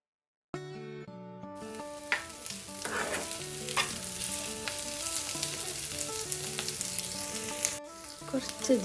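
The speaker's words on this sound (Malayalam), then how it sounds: "ഇനിയിപ്പോൾ ഈ ഇറച്ചി ബ്ലാക്ക് കളർ വരുന്നിടത്തോളം നല്ല ഫ്രൈ ആക്കിയിട്ട് എടുക്കണം നമ്മൾ." Pieces of beef fry and sizzle in a pan for a spicy beef fry, a steady hiss with occasional stirring scrapes, heard under continuous background music.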